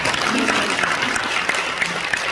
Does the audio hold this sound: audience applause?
yes